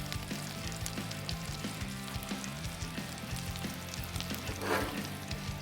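Chorizo and pork belly sizzle and fry on a Blackstone griddle, a steady close crackle with a spatula scraping and tapping the flat-top at a regular beat, no voices.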